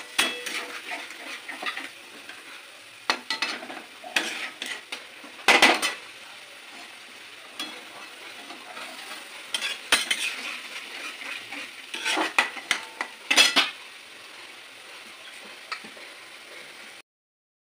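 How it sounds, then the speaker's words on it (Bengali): Masala for chicken chap stirred slowly in a pan, a spoon scraping and clinking against the metal in irregular bursts over a soft sizzle, close by with no voices. "আস্তে আস্তে আস্তে আস্তে নাড়তে হবে।"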